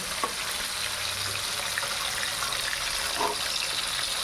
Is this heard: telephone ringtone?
no